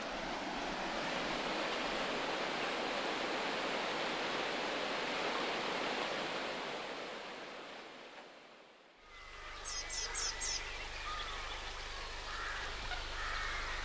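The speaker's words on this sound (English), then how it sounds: "the river looks beautiful and sounds fantastic" A broad, steady rush of flowing river water on the Ouse fills most of the stretch, then fades and gives way to quieter surroundings with a few bird calls.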